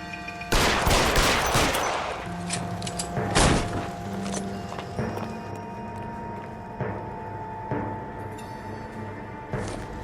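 Sharp bursts of video-game gunfire aimed at an enemy, a loud volley at the start followed by scattered single shots and booms over a steady game soundtrack.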